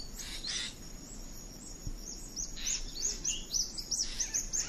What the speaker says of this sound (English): Here's one of my recordings of the dawn chorus there.